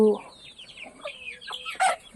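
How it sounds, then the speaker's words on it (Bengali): Local backyard chickens cluck in short, repeated bursts, with a louder squawk near the end, heard fairly close with no talk. "এটি আছে মুরগি লোকেল মুরগি"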